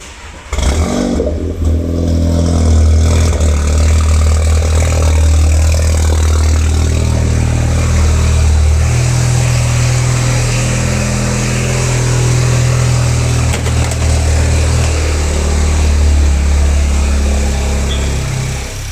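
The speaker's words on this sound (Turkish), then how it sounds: "Marşa bastık arkadaşlar." A Seat Leon FR with a 1.5 TSI engine, just fitted with new NGK spark plugs and coils, cranks and fires, then settles into a loud, steady, close idle that holds to the end with no talk.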